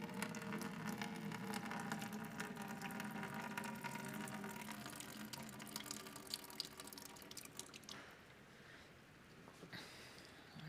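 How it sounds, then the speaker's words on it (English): Water carrying seeds and pulp is poured off slowly, a steady close trickle and splash that runs on and then thins to a quieter drip near the end. "I'm very carefully pouring off the water and the pulp."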